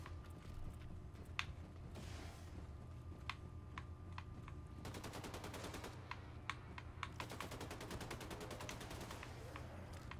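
Rapid gunfire from the video game Wolfenstein 2: The New Order, with dense bursts of automatic shots and sharp single cracks over a steady rumbling background, loud and continuous throughout.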